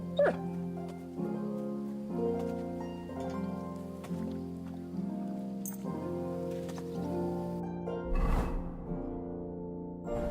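A dog whimpering and yipping in Kingdom Come: Deliverance II, its soft whines layered over steady in-game music, with a brief louder rustle near the end.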